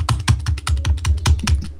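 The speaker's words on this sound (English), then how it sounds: "I just hear you clicking." Rapid computer keyboard clicking during a Minecraft session, a steady run of close, crisp keystrokes in quick rhythm with no talk over it.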